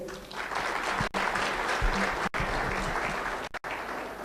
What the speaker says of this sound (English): should I have your big applause for all of them?